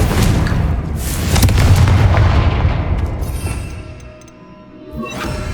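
A Confringo fire spell bursting in Hogwarts Legacy: a loud, deep explosive boom with crackling debris that rumbles and fades over several seconds, heard alone.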